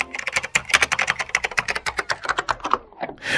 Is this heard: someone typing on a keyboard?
yes